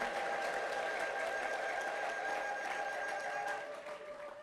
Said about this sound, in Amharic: እስቲ ለእግዚአብሔር ክብር፣ እልልታ፣ ጭብጨባ